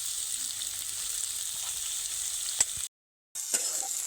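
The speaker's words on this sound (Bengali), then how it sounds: "পেঁয়াজ আদা রসুন একসঙ্গে বেশ লালচে লালচে করে ভেজে নেব" Onion, ginger and garlic sizzle steadily in a pan, a close, even hiss with a couple of soft stirring knocks and a brief cut to silence near the end.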